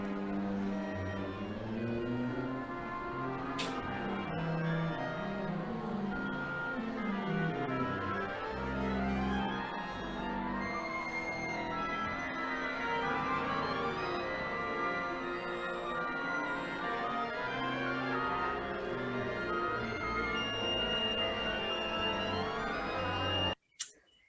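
Ensemble playing aleatoric music with each musician sounding independently, a dense, loose cloud of overlapping notes, runs and sustained tones with a shrill, loud piccolo piercing through, continuous until an abrupt stop.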